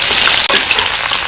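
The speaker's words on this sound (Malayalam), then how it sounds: "ഈ ഉള്ളി ഫ്രൈ ചെയ്യുമ്പോൾ ചെറുതായിട്ട്" Onions fry in hot oil for ghee rice, a loud, close, steady sizzle that hisses continuously with a slight stir partway through.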